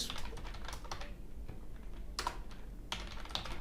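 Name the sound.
typing code on a computer keyboard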